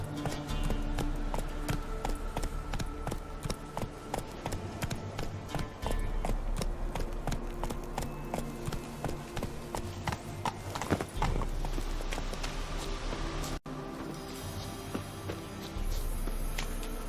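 The horse Roach trots steadily in The Witcher 3, a continuous close clip-clop of hooves over a low ambient bed, with a brief whinny-like sound partway through.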